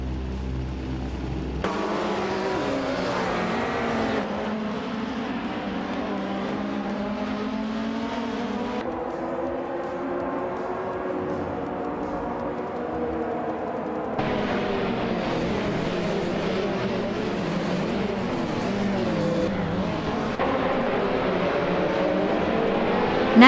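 KTM X-Bow GT4 race cars in a video game race, engines revving and rising in pitch through several gear shifts, loud and close, with tire squeal and other cars droning around, no speech.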